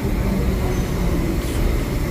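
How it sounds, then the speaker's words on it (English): Subway train rolling past on the opposite track of an underground station, a steady loud rumble of wheels and cars with faint squeal, continuous throughout. "that train on that opposite direction, that's going downtown"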